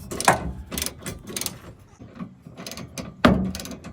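A hand ratchet tightens trailer hitch bolts on a Nissan Frontier, giving several rapid clicking bursts up close with short pauses and a sharper clack near the end, with no talk.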